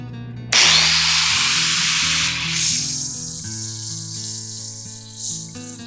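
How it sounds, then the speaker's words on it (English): A power tool sands down an axle, starting with a sudden loud hissing whine that settles into a steady grinding drone with slight pitch and loudness swells, heard up close with no talk. "let's go ahead and get this sanded down to the right dimensions"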